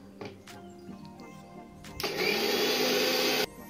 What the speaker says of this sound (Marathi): तर ही मिक्सचर सर्व आपण वाटून घेणार आहोत मिक्सरमधून.